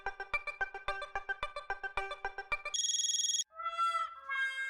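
A phone ringback tone sounds while an outgoing call is placed, a steady run of repeated short tonal pulses followed by a brief high electronic jingle, loud and clear with no talking over it.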